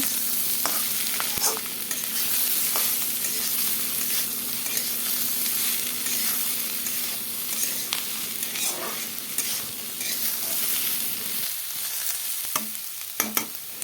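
Diced jackfruit and onion frying in a pan for a vegetarian curry, with a steady, loud sizzle and occasional stirring scrapes throughout and a few sharper clinks near the end.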